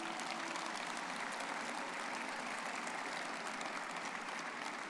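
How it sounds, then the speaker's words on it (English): Steady applause from a commencement ceremony audience honoring families and friends, a dense, even wash of many hands clapping for the full stretch, heard from some distance. "So everyone give them a round of applause, would you please?"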